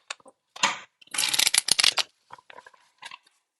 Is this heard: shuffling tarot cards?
yes